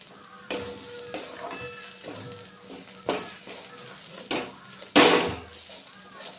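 Bottle gourd leaves fry in a pan under a faint sizzle while a utensil stirs them, scraping and clanking against the pan in several sharp knocks. Someone talks quietly now and then.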